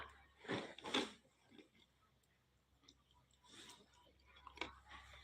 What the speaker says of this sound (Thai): เคี้ยวค่ะ